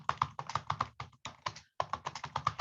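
Rapid, uneven keystrokes on a computer keyboard clatter close by in bursts, with a short pause midway, and no talking over them.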